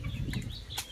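Native chickens cluck briefly at close range, a short burst of soft, choppy clucks and a higher squawk in an outdoor setting.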